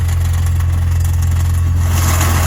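A damaged limousine engine idles rough and steady up close, a low uneven drone with a faint pulsing throb and no voices.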